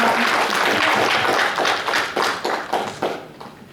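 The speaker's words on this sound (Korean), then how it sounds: "제 말, 말에 동의하신다면 박수 한 번 쳐주세요." Attendees at a regular council meeting in Jecheon clapping, a short round of applause that thins into a few separate claps and fades out quickly.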